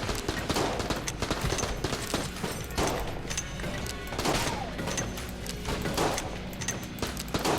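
Rapid gunfire from the twin-stick dungeon shooter Enter the Gungeon, dense volleys of shots and impacts crashing continuously over busy game music, loud and without a break.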